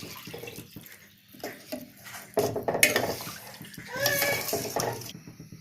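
Water is poured in stages into a pot of home-style Ambur chicken biryani, 4.5 glasses in all, splashing and gurgling close up with light clinks of a vessel, while a voice speaks faintly underneath.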